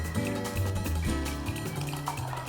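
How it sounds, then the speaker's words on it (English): Coffee pours from a French press into a cup, a close, steady liquid fill whose gurgling tone shifts as the cup fills. "I'm going to pour you a cup of coffee"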